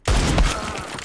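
A single loud gunshot in the Valorant shooter game cracks close up, then rings out in a short decaying tail.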